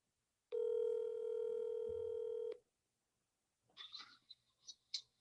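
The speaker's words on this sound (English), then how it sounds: "I'm going to give somebody a call here real quick who is my Indy 500 aficionado. So let's hope he picks up the phone." A telephone call rings out as a single long steady electronic tone lasting about two seconds, clean and fairly loud, followed after a pause by faint scattered clicks and rustling.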